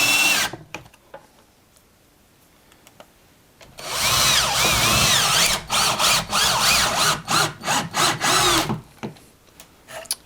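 A power drill drives Torx head screws into a kitchen cabinet, starting with a brief burst and then a long, loud whirring run with repeated stop-start pulses as each screw seats.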